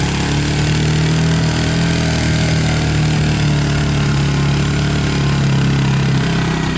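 Four-wheeler ATV engine idling and running steadily, a continuous loud low drone with no break throughout, heard alone.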